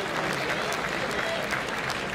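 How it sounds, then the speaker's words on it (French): Applause from a boxing event audience, a dense steady wash of clapping from a crowd, moderately distant and continuous with some faint voices mixed in. "on va l'applaudir"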